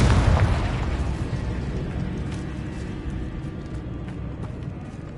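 Confringo blasting spell explosion in Hogwarts Legacy, a loud close boom at the start that fades into a long rumbling, crackling tail with a few faint pops.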